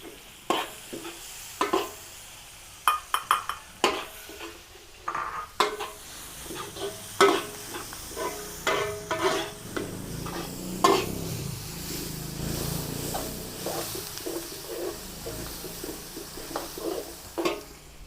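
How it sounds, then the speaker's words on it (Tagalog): Onions sautéing in a pan, with steady sizzling under repeated scraping and stirring strokes of a utensil against the pan, close and continuous. "Maglagay na po tayo ng sibuyas."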